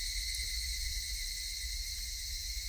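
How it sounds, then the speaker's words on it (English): Cicadas in the video game Higurashi: When They Cry, a constant high shrill drone, faint and unbroken with no other sounds. "Only the cry of the cicadas remained, annoyingly loud."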